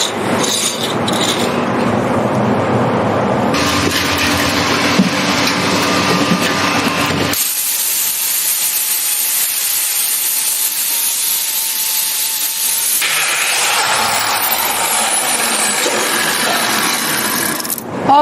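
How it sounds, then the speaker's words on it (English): An angle grinder smooths weld edges on metal, a loud continuous grinding that shifts in tone partway through as the disc's contact with the workpiece changes. "So we're going to get rid of that with the angle grinder. I'm going to smooth out some of these edges"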